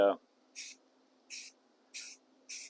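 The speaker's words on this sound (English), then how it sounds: "I'm going to do it with a rattle can." Short bursts of rattle-can spray paint, four separate hisses about half a second each with brief pauses between, close and clear, used for gray weathering on an On30 model locomotive tank and bunker; a brief voice opens the clip.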